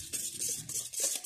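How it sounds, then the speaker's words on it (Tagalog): Puto rice cake batter is stirred in a bowl with a utensil, giving quick soft scraping and wet swishing strokes in a short close burst with no talk. "haluin natin ng mabuti"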